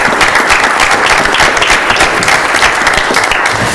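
Audience applause at a school committee meeting, loud sustained clapping from a room of people, dense and even throughout without pause.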